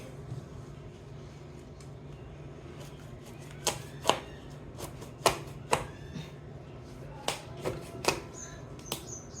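Knife cutting a fresh sweet pumpkin, heard as a series of sharp, close chopping clicks that start after a few quiet seconds and come at irregular intervals over a low room hum.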